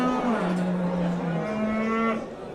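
Bulls and calves at a livestock market low loudly in a long, sustained moo with steady harmonics, close by and filling the whole clip with no talk over it.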